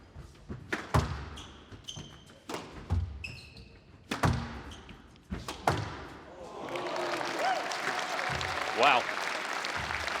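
A crowd at a squash match at the Canary Wharf Classic 2022 claps after a great shot, preceded by sharp ball thuds and slaps off the walls, then building into sustained applause with a commentator talking over it.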